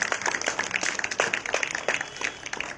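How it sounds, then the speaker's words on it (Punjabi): Loud, sustained applause from a congregation at a Christian prayer meeting, dense clapping running steadily throughout with no talk over it. "ਜ਼ੋਰਦਾਰ ਤਾੜੀਆਂ ਯੀਸ਼ੂ ਮਸੀਹ ਦੇ ਲਈ"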